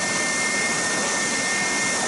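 A Triton TSPST450 450W oscillating spindle and belt sander runs steadily with a constant motor whine and broadband sanding hiss, and no one speaks.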